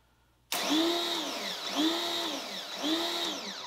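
Budget Amazon pressure washer motor kicking on abruptly, then running with a rhythmic pulsating whine that swells and dips about once a second as it cuts on and off, loud and close.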